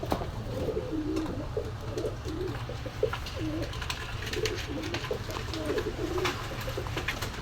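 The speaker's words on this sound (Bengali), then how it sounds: "এই এক পেয়ার গোল্ডেন কবুতর বাচ্চা" Pigeons coo in soft, repeated rolling calls close by, several phrases in a row over a steady low background hum, in a pigeon shop.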